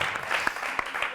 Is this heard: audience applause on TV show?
yes